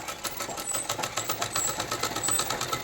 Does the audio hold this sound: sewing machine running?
yes